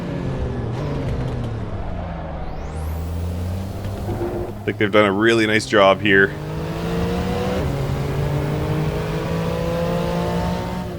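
TECHART 992 Turbo S, an 800 hp street car in Assetto Corsa, its engine droning and rising in pitch through the gears with a sharp revving burst mid-clip, while someone talks over it.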